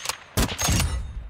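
Sniper rifle shot in a video game: a single sharp, loud report with a lingering tail, preceded by a fainter short burst.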